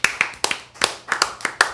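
Sharp hand claps from a small group at a live political talk broadcast, about a dozen crisp, slightly uneven claps in quick succession, close and loud with no talking.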